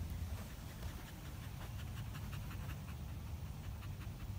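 A springer spaniel pants rapidly and steadily after running at a lakeside dog park, the breathing close and continuous with no voices over it.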